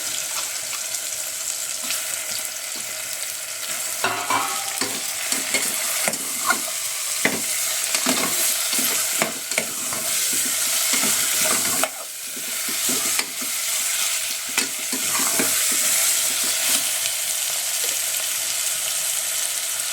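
Chicken pieces frying in a pan for kebab, a loud continuous sizzle close by with frequent scraping and clinking as a spoon stirs, sustained throughout with no speech.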